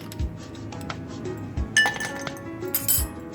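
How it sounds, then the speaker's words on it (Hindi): Ice cubes drop into a drinking glass for a mango milkshake, giving a few bright clinks and rattles spread over a few seconds, close and fairly clear. "अब हम इसे निकालते हैं गिलास में। मैं सबसे पहले ऐड कर रही हूँ मैं आइस"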